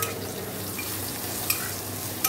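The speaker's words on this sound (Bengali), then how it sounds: "এদিকে দেখো চিচিঙ্গা ভাজা হচ্ছে" Snake gourd fries in a pan with a steady, close sizzle and faint hiss, broken by a couple of small clinks.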